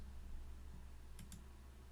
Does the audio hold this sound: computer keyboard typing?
yes